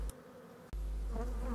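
Honeybees buzz in a dense, continuous hum at the entrance of a small nucleus hive during swarming, close and steady, with a brief sharp knock partway through.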